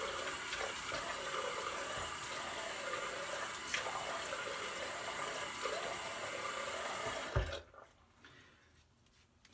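Tap water runs steadily as a face is wetted before shaving, a continuous close hiss that stops abruptly near the end, leaving a quiet room with faint small handling noises.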